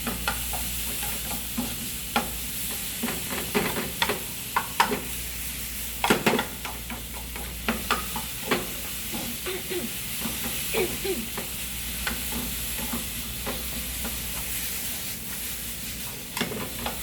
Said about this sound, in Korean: 여기서도 양파 충분히 볶아주세요.